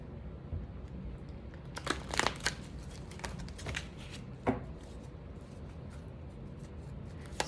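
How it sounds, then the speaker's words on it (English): Tarot cards shuffled by hand in a quick burst of crisp riffling and slapping, several sharp flicks clustered together, then quieter scattered card sounds. "So Spirit, let's just do a quick, we're gonna do a quick shuffle"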